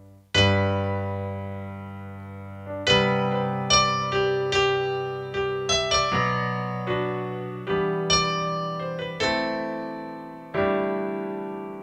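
Solo piano plays a slow, simple melody over sustained chords, each note struck clearly and left to ring and decay; no voices.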